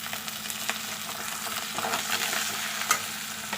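Greens dropped into a pan of frying onions, a steady sizzle with scraping stir strokes and small crackles, close up and without voices.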